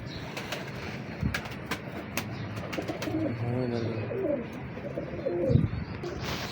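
Pigeons coo in a few low, wavering phrases partway through. Scattered sharp clicks and a constant background rumble sit under the birds.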